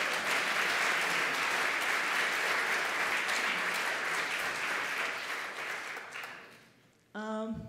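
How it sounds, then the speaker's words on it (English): An audience at a literary festival session in Boulder breaks into full, dense applause that gradually thins and fades, followed at the very end by a voice beginning to speak. "So let's clap for that."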